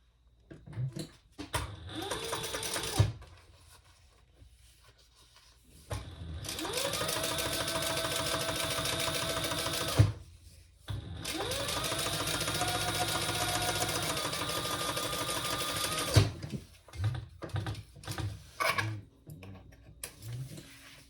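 Sewing machine top stitching a crossbody bag runs in two long steady bursts of about four and six seconds, with shorter stop-start stitching and clicks between them, close and loud, with no voices.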